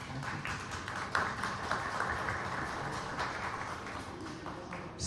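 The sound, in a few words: audience applause after a talk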